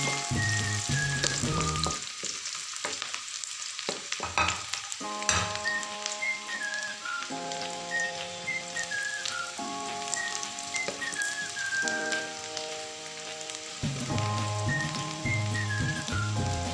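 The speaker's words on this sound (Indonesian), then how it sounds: "minyak panas, kita masukkan bawang merah, bawang putih, aduk hingga merata." Shallots and garlic fry in hot oil while being stirred, a loud steady crackling sizzle with spatula scrapes and knocks, and a melodic whistling tune playing over it for most of the time.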